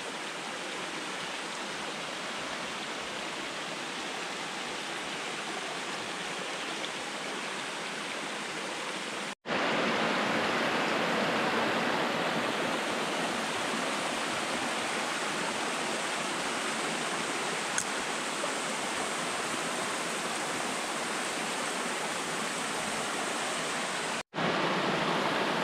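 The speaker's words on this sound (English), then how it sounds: "Most of the water's coming out right there out of the pipe that's broken." Continuous rushing water pours steadily from a broken pipe at an old mine in a forest, loud and close, with a brief cut partway through before the same heavy flow returns.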